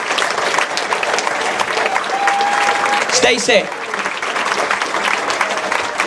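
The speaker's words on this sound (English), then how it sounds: "give her a round of applause, please" Applause at a football club academy awards night, a steady round of clapping from the audience with a few voices and cheers mixed in, and a short spoken name partway through.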